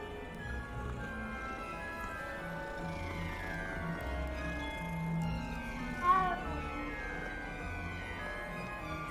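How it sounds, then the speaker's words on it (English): Cat meowing in the video game Hogwarts Legacy, a short mew standing out near the middle over a continuous bed of game music and ambience. "Oh, let's look at the cat."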